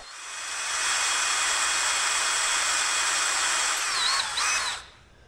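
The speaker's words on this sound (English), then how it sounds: "Now I need to drill that out with an R bit." A power drill with an R bit drills out a hole in aluminum, whining at a steady high pitch for several seconds close by, briefly dipping under load before spinning down and stopping.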